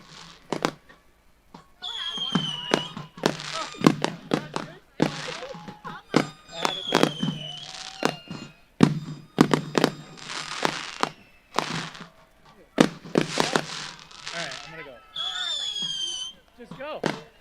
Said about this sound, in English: You get fireworks for yours.